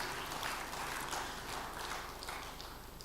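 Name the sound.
audience applause at engineering academy induction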